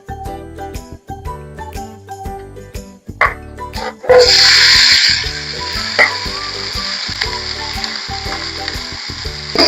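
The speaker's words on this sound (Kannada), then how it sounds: "2 ಸ್ಪೂನ್ ಎಣ್ಣೆ ಹಾಕೊಂಡು ಅದರಲ್ಲಿ ಕುಯ್ದಿಟ್ಟಿರೋ ಉಳ್ಳಾಗಡ್ಡಿ, ಟಮಾಟಿ, ಈರುಳ್ಳಿ, ಟೊಮೆಟೊ ಹಾಕ್ಬೇಕು" Chopped onion and tomato dropped into two spoons of hot oil in a pan, crackling loudly into a steady sizzle with stirring clinks, close and without talk.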